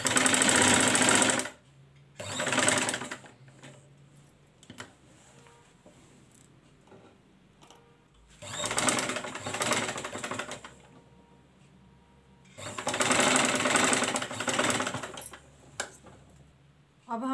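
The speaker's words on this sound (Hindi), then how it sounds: "अब हम इसको फोल्ड करके सिलाई लगा के बटन टेक लगाएंगे।" Sewing machine stitching a fold and button tack on a baby frock with raglan sleeves, running in three loud bursts of about two seconds each, separated by quiet pauses with faint handling noise.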